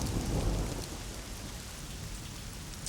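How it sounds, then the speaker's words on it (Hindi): Steady rain hisses with a low rumble of thunder, loudest at the start, continuing as a dense, even wash for a few seconds. "अच्छा हुआ हम लोग जल्दी घर में आ गए, अगर बारिश से भीग जाते तो हालत ही खस्ता हो जाती।"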